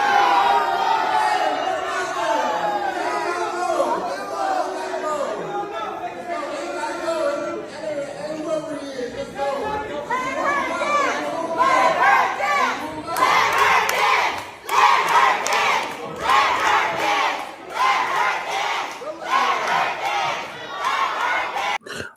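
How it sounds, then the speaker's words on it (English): A large crowd at a twerk contest screams, shouts and boos without letup, a dense loud roar of many voices that swells into sharper bursts of yelling toward the end. "and they all screaming"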